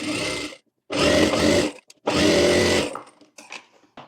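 Electric sewing machine stitching small pleats into a blouse: two loud, steady whirring runs of about a second each, separated by short pauses, followed by softer handling clicks.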